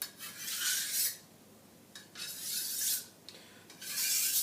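A blade being sharpened with a series of about four long, steady rasping strokes, each lasting roughly a second and separated by brief pauses; close, fairly quiet, and with no voices.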